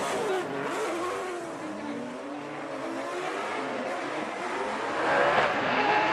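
Drift cars at a Formula Drift Japan event, including a V8 machine, rev hard and howl through a run, their engine notes sweeping up and down, with tire squeal and a steady roar at some distance.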